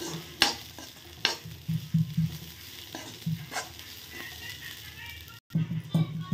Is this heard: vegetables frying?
yes